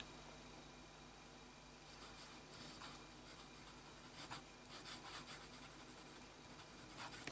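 A Visconti Opera Elements fountain pen with a 14k gold nib and gray ink scratches faintly across paper in short, soft strokes, the quiet scritching arriving in clustered bursts over low background hiss.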